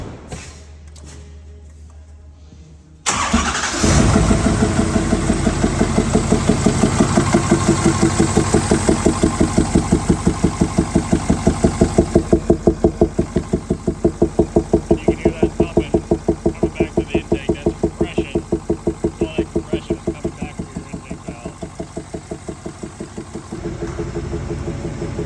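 A diesel truck engine cranks and catches after a glow plug is refitted, then settles into a loud, steady clattering idle that runs on evenly without talk.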